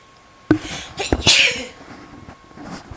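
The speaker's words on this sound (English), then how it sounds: "bit of a sneeze." One sharp, loud sneeze bursts out close by, a quick intake followed by an explosive release that trails off into quiet.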